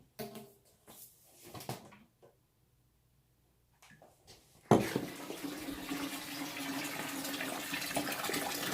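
Tap water gushes steadily into an aquarium during a water change, starting abruptly after a few quiet seconds of soft clatter and continuing as a loud, even rush.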